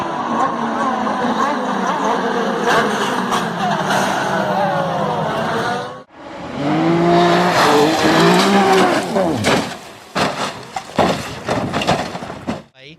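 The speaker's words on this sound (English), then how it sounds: "huge wreck in Pro Mazda coming" Race cars roar at speed in a Pro Mazda race, then engine pitch shifts as cars wreck and skid, with tire squeals and scraping bursts in the second half; loud, under continuous commentary-like voices.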